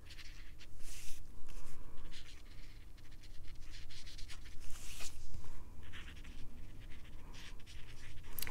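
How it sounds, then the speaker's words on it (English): A pen colours in a card with a steady, close scratching, with rapid back-and-forth strokes interrupted by brief pauses and shuffles as the paper is turned. "You notice that I turn my paper a lot when I color"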